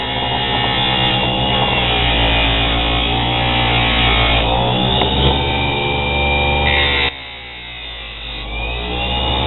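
Mini bench grinder driven by a sewing machine motor, running as a steady electric whine and hum at moderate speed, close and loud, dropping slightly in level near the end.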